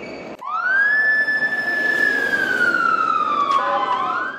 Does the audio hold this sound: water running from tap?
no